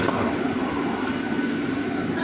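Loud, steady rumble and hiss of a train idling at a station, with a Vande Bharat train alongside, a continuous mechanical drone close by with no clear voices.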